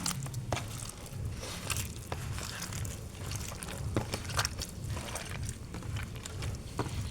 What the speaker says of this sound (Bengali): এগুলোকে এখন আমি ভালো করে হাত দিয়ে চটকে নেব